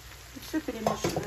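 Rinsed pasta is tipped into a frying pan of sautéed mixture for navy-style pasta, giving a close sizzle with a few sharp stirring scrapes and clatters that grow busier toward the end.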